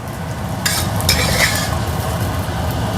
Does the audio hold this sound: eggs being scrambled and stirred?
yes